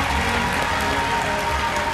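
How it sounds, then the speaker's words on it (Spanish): Broadband applause from an audience at an awards ceremony, a steady wash of clapping filling the whole short stretch at moderate loudness, with no speech over it. "Fuerte el aplauso"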